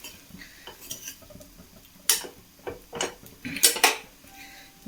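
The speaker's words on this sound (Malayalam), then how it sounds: "ഇളക്കി മിക്സ് ചെയ്ത് കൊടുക്കാം" A metal utensil stirs and mixes soaked food in a pan for a homemade breakfast, giving irregular scraping and sharp clinks against the pan, with a few louder knocks, close up and without talk.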